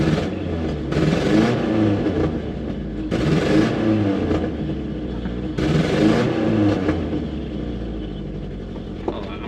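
Car engine running on vodka in the gas tank, revving in repeated surges and dropping back between them, uneven and sputtering, loud and close.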